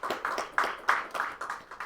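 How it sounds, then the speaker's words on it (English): Applause from a small audience at a startup pitch event: a few quick separate bursts of hand clapping, fairly sparse and moderately close. "Let's give a big round of applause."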